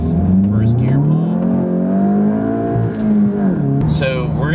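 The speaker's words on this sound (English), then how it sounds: "So we're gonna see what it does. First gear pull." A VW GTI pulls hard through first gear, its engine rising in a loud, steady rev close by before easing off near the end, with a voice heard over it.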